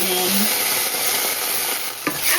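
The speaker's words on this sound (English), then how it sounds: "You can hear the sizzling now, and my garlic is turned and toasty." Steady, loud sizzling of garlic frying in a hot pan, with a brief clink near the end.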